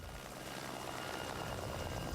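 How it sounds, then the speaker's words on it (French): Helicopter flying toward a mining exploration zone, a steady distant rotor and engine drone, even and unbroken, with no talk. "Les hélicoptères sont parfois plus nombreux à se rendre dans la zone d'exploration avancée."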